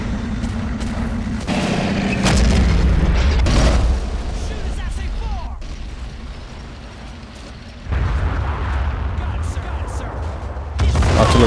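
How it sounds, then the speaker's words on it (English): Heavy artillery shells burst in a Men of War Assault Squad battle, giving repeated deep booming explosions and rumbling impacts that come in loud waves over steady battlefield noise, with someone talking in between. "Artillery's hitting me hard."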